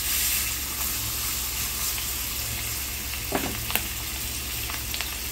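Semolina-coated pomfret fish fries in a pan with a steady close hiss and sizzle, a few sharper crackles and spatters popping out near the end.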